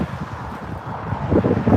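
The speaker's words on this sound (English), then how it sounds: "It's very windy as well." Strong wind buffets the microphone at a roadside protest outside a hotel, producing a low, rumbling, uneven roar that swells slightly toward the end.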